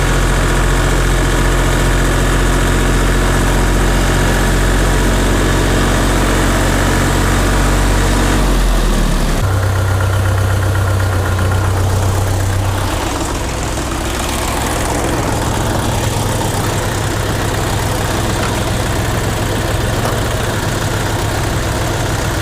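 The heavy engine of a Scout 404 tractor idles steadily with a deep, continuous rumble and vibration, its tone shifting slightly partway through, with no talking.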